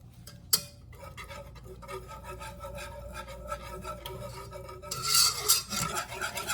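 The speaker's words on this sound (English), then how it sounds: "Kind of stir it frequently because we don't want this to burn or stick." Cream cheese melting in butter in a pan is stirred with steady scraping and rubbing strokes, a louder sizzle and rasp rising near the end, with no talking.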